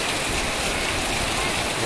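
Heavy first monsoon rain pours onto the clay-tiled roof of a village house in Kumbhavade, Konkan, a dense, steady hiss and patter of close water running continuously with no let-up.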